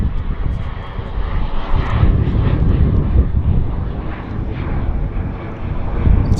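Convair 580 turboprop airliner at Vancouver YVR airport, a loud continuous engine roar and rumble close by that holds steady throughout, alone without talk.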